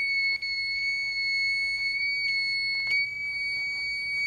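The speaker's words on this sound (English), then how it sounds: "just simple battery connected to a little speaker, and it's going to make some frequency noise with some frequency" A small battery-powered speaker sitting in a bowl emits a steady, high-pitched electronic tone that holds continuously, with a faint upper harmonic and only brief dips in level.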